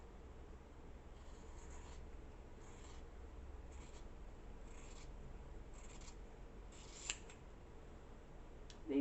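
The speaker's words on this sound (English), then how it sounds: "cut a piece of this fabric" Scissors snipping through fabric while cutting small squares for a hand-embroidered soft book page, a series of faint, short crisp cuts over a low steady hiss.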